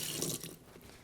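Brief rush of running water as something is rinsed, close and fairly soft, a spray-like hiss that fades after about half a second.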